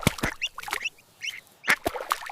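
Repeated duck quacks in a cartoon farm setting, several short nasal calls spaced irregularly across a couple of seconds, fairly close and clear with no talk over them.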